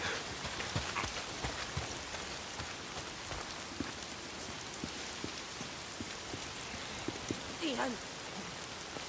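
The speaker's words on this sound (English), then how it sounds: "Why is it always raining?" Steady rain falls in the video game Days Gone, a dense hiss of drops with scattered louder patters. It stays constant throughout and sits at a moderate level.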